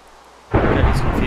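A lightning strike in the Pixelmon Minecraft game comes as a sudden loud thunder crack that bursts in after a quiet moment and rolls on as a heavy, sustained rumble.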